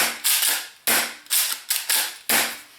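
A Secutor Arms Invicta gas airsoft shotgun running on green gas fires six loud, sharp cracks at an uneven pace, each a hard burst with a short, bright tail, close and with no voices.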